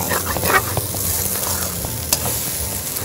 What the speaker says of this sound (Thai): แล้วก็ขยี้ให้มันคลุกเคล้าให้ทั่วข้าว